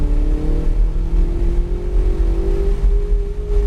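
A Ferrari 488 GTB accelerating on the Nelson Ledges race track, a loud, close, steady engine drone that rises smoothly in pitch as speed builds, with no talk over it.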